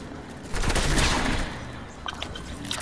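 Rapid bursts of hand cannon gunfire in the Fortnite video game crackle loudly and densely for about a second, then thin out into scattered distant shots.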